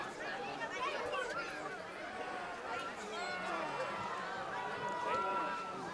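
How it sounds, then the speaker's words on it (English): Dense crowd chatter and cheering fill the stands at a high school varsity football game between Deering and Messalonskee, a steady wash of many voices with no single speaker standing out. "Huge crowd up here."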